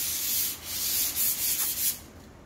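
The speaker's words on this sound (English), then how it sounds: "Like you can hear it getting a little more easier to sand." Sandpaper rubbing back and forth across a wooden cradleboard, a steady close scratchy hiss with several brighter strokes, heard alone without talk.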